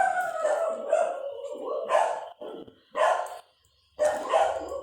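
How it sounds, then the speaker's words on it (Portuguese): Pet dogs bark indoors during a knitting session, a few loud, close bursts of barking and yipping separated by short pauses. "Meus cachorros deram ar da graça."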